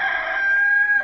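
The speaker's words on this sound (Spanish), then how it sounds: "en ese mismo instante cantó el gallo" A rooster crows once in a single sustained call, loud and close, with nothing else heard.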